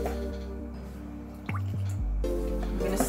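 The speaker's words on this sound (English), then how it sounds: "You pour the water in slowly." Water poured slowly into a salt dough mixture in a bowl, a short splashy trickle with drips, close and fairly quiet, with a brief pause midway before the pour resumes.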